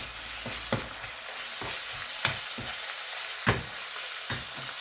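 Minced pork fries with onion in a pan under a continuous close sizzle, with a string of sharp scraping knocks as a utensil stirs the mixture every half second or so.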